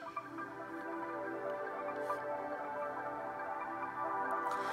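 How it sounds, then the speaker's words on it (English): A swirling synth pad effects loop in a songwriter's track, with smeared, sustained tones drifting and shimmering at steady loudness across the whole stretch, no voice over it. "like this more effects loop, like this synth effect, like this swirl, it's the best way to describe it, which sounds like this"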